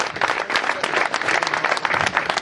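An audience at a youth cadet cycling race podium ceremony claps in a dense, lively burst of applause that stays close and full throughout.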